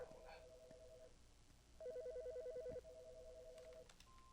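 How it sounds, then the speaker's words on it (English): An in-game telephone in Autopsy Simulator rings in repeated electronic trilling bursts with short gaps between, moderately loud over a faint background hum. "Don't answer the phone."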